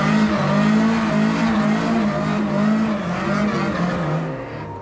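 Ford Mk2 Escort classic car on a hired race track, its engine droning loudly and steadily up close with a rising and falling pitch, easing off toward the end, no voices over it.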